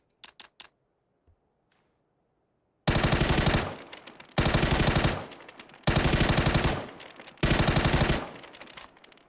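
Automatic rifle fire in PUBG: a few quick taps, then four sustained sprays of rapid gunfire in close succession, loud and sharp, with brief gaps between bursts.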